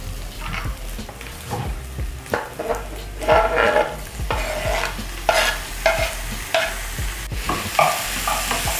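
Tomatoes go into a hot pan of sizzling pork, and the steady frying hiss is broken by repeated scraping, stirring knocks and clatter of the utensil against the pan.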